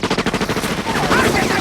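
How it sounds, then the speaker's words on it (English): Rapid automatic gunfire from a Quentin Tarantino film, a fast run of evenly spaced shots that then blurs into a denser, sustained roar of fire, loud and close. "All the shooting."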